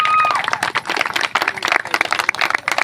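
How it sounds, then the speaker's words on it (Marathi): Women at a village haldi-kunku gathering clap loudly in dense, uneven bursts throughout, mixed with crowd chatter and a few high whistle-like tones. "जोरदार टाळ्या झाल्या पाहिजे"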